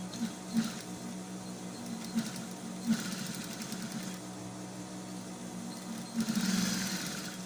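A sewing machine stitches a sweatshirt seam, its motor whirring in several bursts with brief pauses and a louder run near the end, close and steady.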